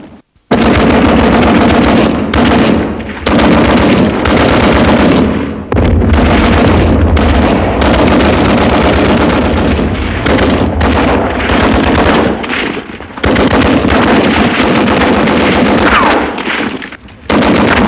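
Dense war-film battle scene of an artillery barrage with machine gun fire, continuous loud bursts of gunfire and heavy booms for nearly the whole stretch, with only a few brief dips in intensity.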